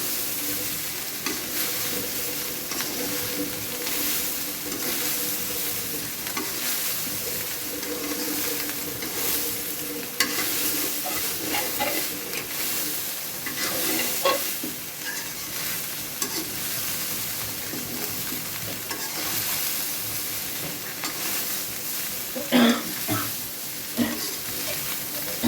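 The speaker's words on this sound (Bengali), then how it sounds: "ভাজাটা পুরোপুরি আপনাদের দেখাচ্ছি" Soybean chunks frying in a pan and being stirred, a continuous sizzle broken by scraping and clattering strokes of the spatula, with a few sharper knocks near the end.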